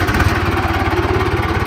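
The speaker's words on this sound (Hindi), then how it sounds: "ट्रैक्टर हो गया स्टार्ट" A heavily modified tractor engine runs after starting, giving a loud, close, steady low-pitched chug with an even rapid pulse and no talk over it.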